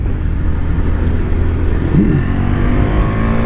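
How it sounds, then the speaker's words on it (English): A 2022 KTM RC 390 single-cylinder sport motorcycle at speed on a track runs loud and sustained, its engine buzzing steadily against the rev limiter throughout with no speech. "Oops, hit the old rev limiter there."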